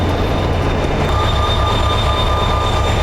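A Mugunghwa passenger train running on rails, heard as a loud, steady rumble with a faint high whine, continuous and close throughout.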